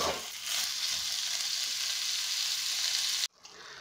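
Pork strips for mandarin fajitas sizzle steadily in a hot pan, a loud continuous hiss that cuts off abruptly near the end.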